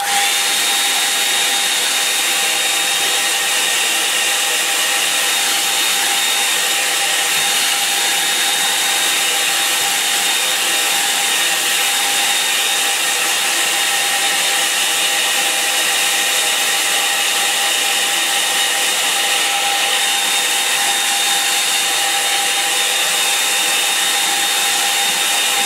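A hair dryer blows steadily on a watercolour painting, giving a loud, continuous airy whir held at an even level the whole time with no talking.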